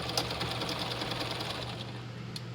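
A sewing machine stitches a dress sleeve in a steady, fast mechanical whir with a rhythmic needle chatter, close and continuous at low volume before trailing off near the end.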